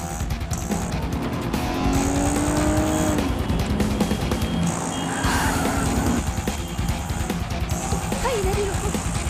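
A car speeds off with tires squealing in an action-thriller chase, the engine roaring loud and steady under long screeching skids, with crowd and street noise behind.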